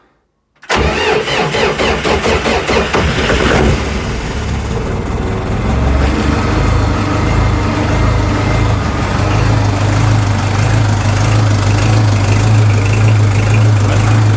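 A Lovol 354 tractor's diesel engine cranks with rapid starter pulses, catches after a few seconds and settles into a loud, steady idle close by with a deep low throb, no voices over it.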